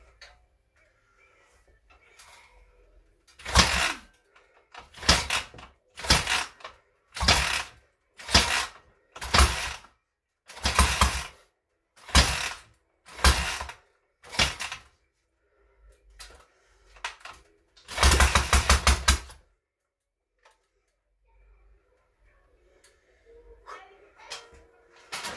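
A rebuilt K750 motorcycle engine is cranked over in a string of about ten short, loud, evenly spaced bursts, followed by a pause and one longer burst, with only faint background noise in between.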